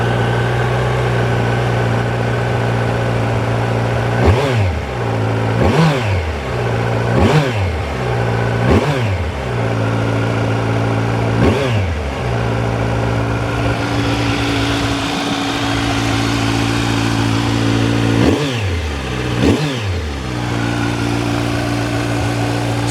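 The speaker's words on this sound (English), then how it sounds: "So fuel injected, we just push the starter button." A 2017 Kawasaki Z900 ABS fuel-injected motorcycle engine runs close by, with a steady idle broken by a series of sharp throttle revs that rise and fall, repeating several times.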